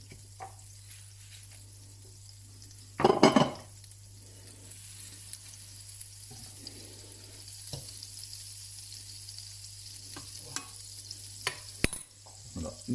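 Shallots fry quietly in melted fat in a pan, with a soft low sizzle under a steady hum. A sharp burst of sizzling comes early, followed by occasional clicks and utensil knocks.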